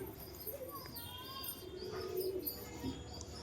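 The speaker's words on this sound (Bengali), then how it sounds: "দেখতেই পাচ্ছ গোলার পায়রাগুলোকে আমার মেয়ে ভয় দেখাচ্ছে।" Feral rock pigeons coo softly at a loft in the evening, with faint repeated low calls, light chirps and a hint of wing movement in a quiet setting.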